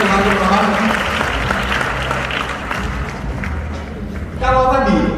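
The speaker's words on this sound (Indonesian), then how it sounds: "Penonton tepuk tangan Pak Andi" Seminar crowd in Solo applauding Pak Andi, a sustained clatter of many hands that dips slightly in the middle, with a voice speaking over it and a louder burst near the end.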